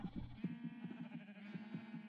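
Sheep bleat in a Minecraft wither rose farm, a wavering, nasal cry running steadily for a couple of seconds with a few thumps underneath, close and fairly clear.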